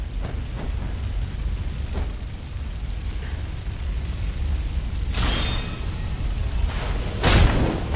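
Firecracker attacks in the video game Sekiro go off as sharp crackling bursts, one around the middle and a louder one near the end, over a low rumbling game background.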